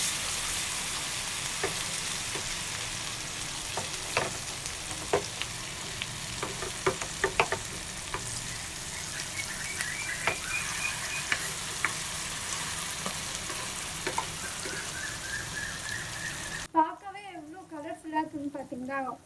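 Spicy fish frying in hot oil, a loud continuous sizzle with scattered pops and crackles for most of the stretch, ending abruptly as a voice begins to talk.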